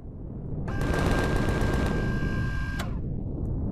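In the video game Empyrion, a sustained burst of rapid automatic gunfire shoots at a drone, loud and close, with a steady tone underneath, then cuts off sharply into a short fading tail.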